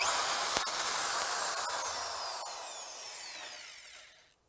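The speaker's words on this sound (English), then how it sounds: "Drill the 5/16 holes into the OEM hanger at the marked location." A power drill bores 5/16 holes into a cast OEM hutch hanger, a high whining spin with a couple of sharp clicks, steady and close before winding down and stopping.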